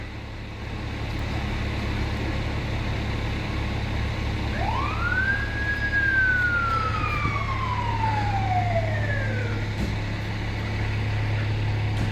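A fire engine siren rises in a single long wail and then slowly falls away, moderately far off, at the scene of a traffic collision with a hazardous-materials response in Huntington Beach. A steady low traffic rumble and hum continue underneath.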